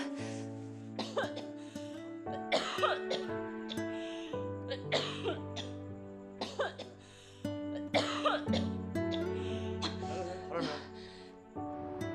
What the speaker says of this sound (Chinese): 好好的就咳嗽上了